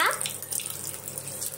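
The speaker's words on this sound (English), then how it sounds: "First, turn on the tap." A hand-washing tap is turned on and water runs steadily into a sink, a soft continuous splashing close by with no voices over it.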